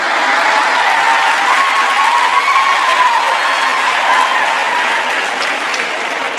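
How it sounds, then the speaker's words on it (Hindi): An audience at a Hindi poetry recital (kavi sammelan/mushaira) breaks into loud, sustained applause, a dense, even wash of clapping with some crowd murmur that holds steady for several seconds. "व्यंग पर तालियां तो अब आपकी अब उठेंगी"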